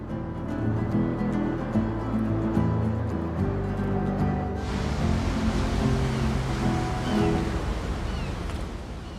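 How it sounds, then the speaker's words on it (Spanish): Atlantic Ocean surf breaking on the western coast of Ireland, a continuous broad wash of waves that swells louder and hissier midway through, with wind mixed in. "el océano Atlántico rodea el frente oeste del continente"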